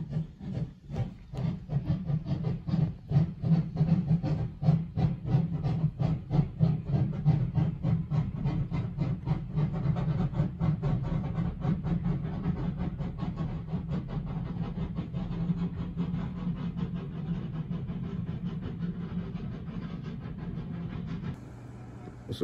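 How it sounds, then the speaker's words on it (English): A steam train passes steadily with rapid rhythmic chugging and clatter, a low rumble underneath, fading slightly toward the end. "Is that a train, son?"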